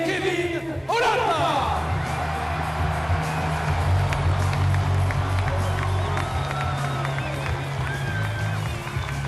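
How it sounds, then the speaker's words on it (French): Stadium crowd cheering and applauding as the club's young number-one goalkeeper is introduced at a player presentation, a steady dense roar with whoops that swells after the first second and holds loud throughout. "Je vous demande d'accueillir et d'acclamer Kevin Olanda."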